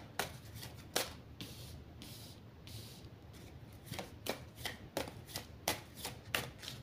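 Oracle cards are shuffled by hand, a series of quick crisp riffling bursts that come in a loose rhythm and grow more regular toward the end, close up and fairly quiet, with no talking.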